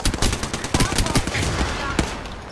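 Rapid video game gunfire in a shootout against a revenant, dense bursts of shots stacking over each other for the whole stretch, loud and close, with a voice talking faintly underneath.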